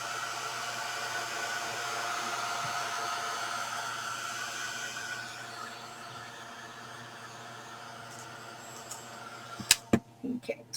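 Small electric dryer blowing steadily over damp paper scraps for a gift tag craft, a continuous airy whir that fades after about five seconds, followed by a few sharp close taps and clatters near the end.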